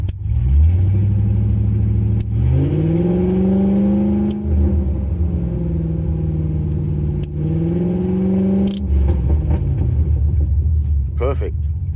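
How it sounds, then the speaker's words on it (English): An off-road rig's engine runs in neutral while a throttle lever raises and lowers the revs. A loud, close rumble rises and falls through two slow rev swells before settling back to idle. "I can control the revs with this lever."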